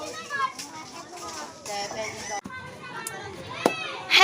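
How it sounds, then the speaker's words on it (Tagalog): Children playing and chattering noisily outside while buying siomay and cold drinks from street vendors, a busy jumble of young voices with occasional sharp knocks, moderately close throughout. "Ang ingay ng mga bata, bumibili ng siomay at saka palamig."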